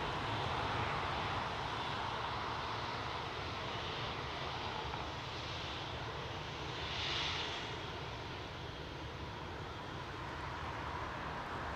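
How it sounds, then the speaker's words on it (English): A large airplane roars at Heathrow Airport in fog. The engine noise is steady, broad and fairly distant, with a slight swell partway through and no speech. "Now look at the size of this aircraft, folks."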